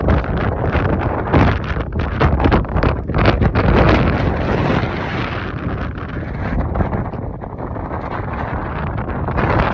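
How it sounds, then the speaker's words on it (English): Strong wind buffets the microphone at a mountain viewpoint on the Bear's Hump Trail in Waterton, loud roaring gusts and rumbling bursts that ease slightly toward the end. "It's very windy up here."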